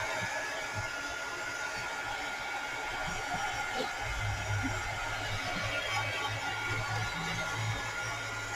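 A hair dryer runs steadily throughout, a continuous close whoosh drying a paper craft project, with its blowing tone shifting louder and lower partway through.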